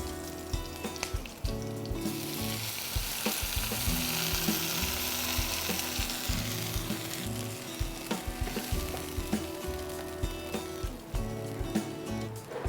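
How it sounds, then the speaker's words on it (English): Curd mixture hits hot oil tempered with green chilli and curry leaves in a Gujarati dish, giving a loud, steady sizzle and frying crackle with stirring scrapes throughout, no talking. "And it's time to add this curd mixture."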